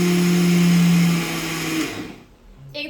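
A kitchen mixer grinder whirs loudly while blending curd with gram flour, its motor running steadily then winding down and stopping after about two seconds, followed by a brief clatter.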